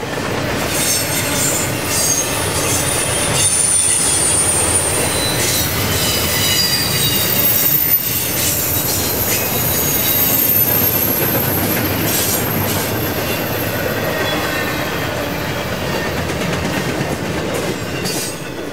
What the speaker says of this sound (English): Climbing up the mountain next was NS-20X, daily intermodal service out of Chicago to Croxton Intermodal Terminal in New Jersey.